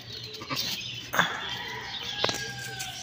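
A goat bleats a couple of times, short and nearby, amid faint farmyard background noise.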